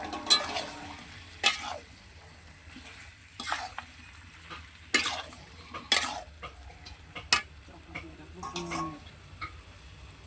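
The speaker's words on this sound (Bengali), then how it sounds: "ভেজে রাখা আলুগুলো এবার দিয়ে দিচ্ছি।" Fried potatoes being stirred into chicken kasha, a soft sizzle under repeated scraping and clinking strokes of a spoon against the pan at an uneven rhythm.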